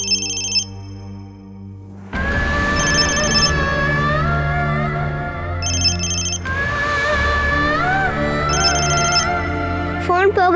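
A mobile phone rings out unanswered, its repeating electronic ringtone pulsing in bursts over loud dramatic background music.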